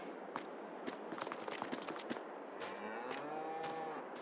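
Cattle moo inside a cow barn in Farming Simulator 22, with several drawn-out lowing calls over a busy bed of clattering and shuffling barn noise, no speech.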